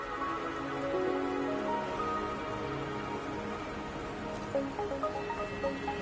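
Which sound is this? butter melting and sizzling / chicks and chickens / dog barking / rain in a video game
rain in a video game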